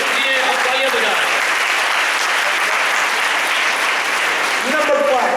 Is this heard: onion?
no